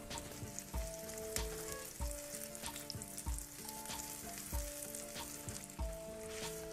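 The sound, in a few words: eggplant slices frying in oil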